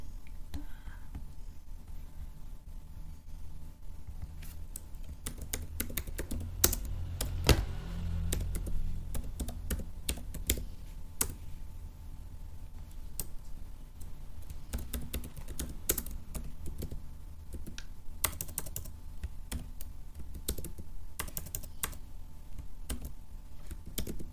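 Someone types on a computer keyboard while making a map in QGIS: a fairly quiet, continuous run of close key clicks with irregular bursts and short pauses.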